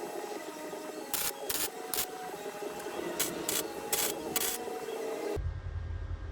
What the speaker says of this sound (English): We're gonna weld these pieces on.